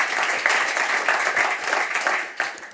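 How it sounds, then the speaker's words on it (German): Audience applause at a panel discussion, a dense, steady wash of many hands clapping that swells briefly near the end, with no voices over it. "Applaus!"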